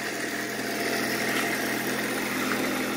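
A homemade electric boat motor for a sailboat, fitted with a propeller and run from an 18-volt battery, gives a steady, close, whirring motor drone with a constant pitch and no talking.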